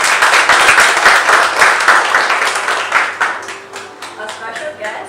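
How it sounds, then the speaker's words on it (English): Audience applause at a media launch event, a dense wash of clapping from many hands that stays loud and steady before tapering slightly toward the end, with a voice briefly audible over it. "Give her a big round of applause"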